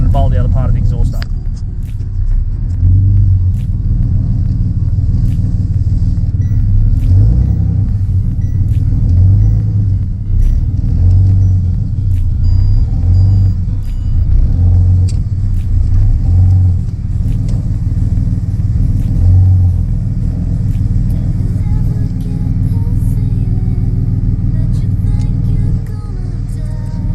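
A Ford BF XR6 engine with its exhaust not fully bolted up idles steadily for the whole stretch, a deep continuous rumble with no revving, sitting close by at a constant loud level.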